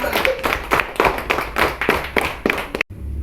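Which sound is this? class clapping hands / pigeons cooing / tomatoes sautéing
class clapping hands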